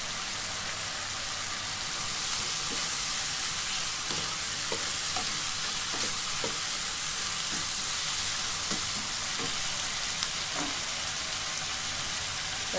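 A vegetarian ginger stir-fry sizzling loudly and steadily in a pan, with frequent light scrapes and taps of stirring over a dense hiss, close up and without speech.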